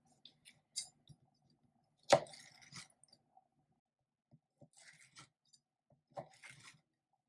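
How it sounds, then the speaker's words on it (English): A knife cuts through baked almond biscotti in a home kitchen, producing a few sparse crunchy slices with faint clicks between them, one louder crunch near the middle, otherwise quiet. "So I'm just going to slice these all up"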